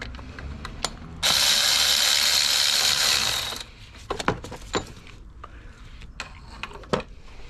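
A ratchet wrench backs a stud out of the alternator on a Lexus IS300, giving a loud continuous buzzing ratchet run lasting a couple of seconds, then scattered clicks and metallic taps up close.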